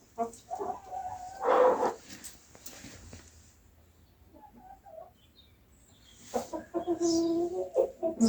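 A hen clucks softly with young chicks tucked under her wing, short rhythmic clucks near the start and a louder burst of fowl calls toward the end, close by.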